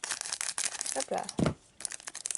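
Plastic packaging of a Pokemon Action Flipz display being torn and crinkled open, close, sharp rustling bursts with a short pause near the end, and a voice speaking briefly over it.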